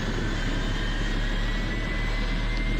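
Left jet engine of a Boeing 777-300ER spooling up inside a flight simulator game, a steady loud roar with a low rumble and a thin high whine, no talking.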